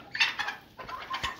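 A hen with feathered legs, one leg split, clucks in short bursts while being fitted with a leg ring, two close grouped bouts of calls.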